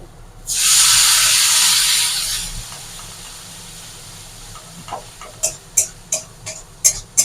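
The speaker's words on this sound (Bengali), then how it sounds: "সেই জলটা আমি এই মশলাগুলো যে দিলাম তার মধ্যে আমি এবারে দিয়ে দেব।" Leftover spice-paste water is poured into spices frying for chicken curry, giving a loud burst of steamy hiss that fades over about two seconds, followed by sharp intermittent sizzling crackles.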